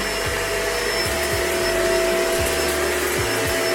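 A Shark vacuum cleaner runs in floor mode with a loud, steady motor roar and whine, punctuated by repeated low thumps as the head is pushed back and forth across the floor.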